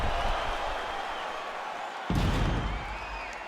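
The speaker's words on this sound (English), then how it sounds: "So the crowd voicing its appreciation after that round." Crowd at a UFC event cheering and applauding after a round, a steady roar of many voices throughout with a sudden louder swell partway through, heard alone without nearby talk.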